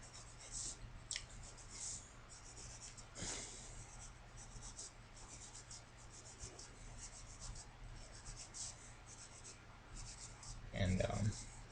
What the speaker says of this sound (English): which I'm actually drawing a little bit fast right now